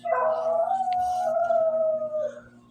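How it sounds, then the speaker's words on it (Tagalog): A neighbour's dog lets out one long, close, loud howl that slides slowly downward in pitch and fades out near the end, with a steady low hum behind it and no talking. "Today's aso ng aming kapitbahay."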